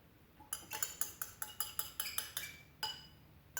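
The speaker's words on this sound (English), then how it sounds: "I'm going to mix it well." Egg being mixed into sugars for chocolate chip cookie dough, a utensil clinking against the bowl in a steady rhythm of about a dozen sharp, close taps with a short pause near the end.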